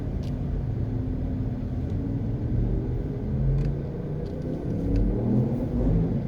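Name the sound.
car driving through a parking lot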